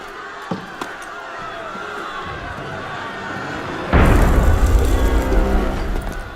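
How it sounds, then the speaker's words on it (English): Cannon fire in the video game Assassin's Creed Unity, a deep booming blast erupting midway over a restless ambient backdrop, loud and rumbling as it lingers. "That was cannon fire."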